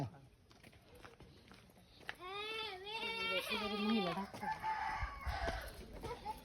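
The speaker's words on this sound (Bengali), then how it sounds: "পাহাড়ে দেশি মুরগি" Country rooster in a hill village crowing once clearly, a long wavering call close by, with clucks and other fowl sounds around it and people talking in the background.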